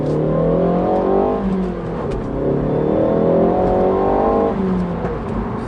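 A 2019 Ford Focus ST hot hatch accelerates hard, its engine note climbing in pitch through the gears with brief sharp cracks and a dip at each upshift, loud and close.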